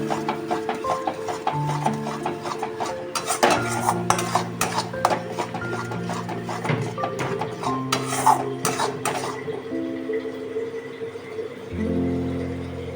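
Turmeric and Kashmiri chili powder masala is stirred and fried in a pan for restaurant-style paneer butter masala. A spoon scrapes and clinks against the pan in irregular close strokes over a steady tonal background.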